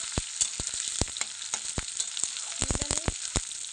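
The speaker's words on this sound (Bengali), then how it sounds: "তেল গরম হয়ে গেছে, এখন পেঁয়াজটা এবারে এখন একটু ভেজে নেব, একটু বাজা বাজা হবে।" Sliced onion frying in hot oil for a prawn malai curry makes a steady, close sizzle broken by sharp crackles and pops, with no talking.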